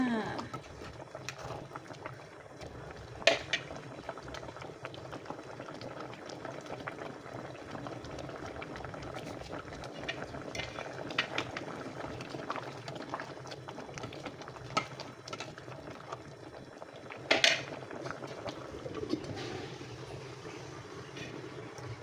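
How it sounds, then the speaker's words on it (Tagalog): Ginataang monggo with mixed vegetables bubbling in a pot, a steady low simmering burble with small pops and a few clanks of utensils against the pot. "Kuluan pa natin ng konti."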